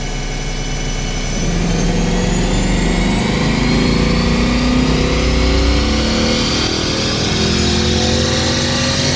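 A Ford Coyote V8 engine revs toward about 7,500 RPM: a loud, continuous engine roar whose pitch climbs steadily and slowly, dominating the whole stretch.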